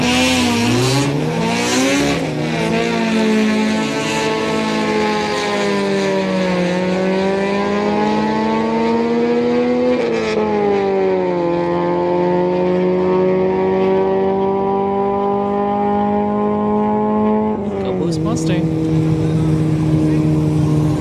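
Loud four-cylinder engines at a drag strip, including an EcoBoost Mustang, rev steadily with rising and stepping pitch through shifts across the whole span, a continuous close harmonic drone that drops near the end before climbing again.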